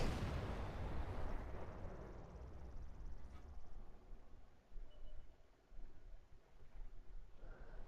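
In a tank video game, a Super Pershing's cannon fires with a loud, deep boom at the start that trails off into a long rumbling decay, fairly close, with no talk over it.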